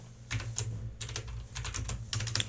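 Quiet, close typing on a computer keyboard comes in quick bursts of key clicks with short pauses between them.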